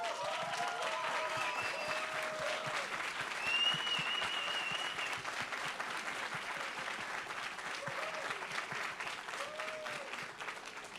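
A crowd at an esports LAN final claps steadily throughout, dense sustained applause with faint cheers rising here and there.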